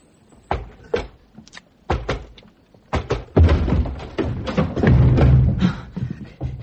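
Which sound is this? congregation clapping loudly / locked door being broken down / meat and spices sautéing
locked door being broken down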